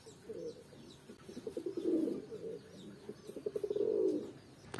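Domestic pigeons in a loft converted from a dog kennel coo softly and repeatedly in low rolling phrases, close by, with faint chirps in the background.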